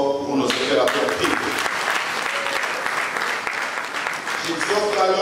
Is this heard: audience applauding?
yes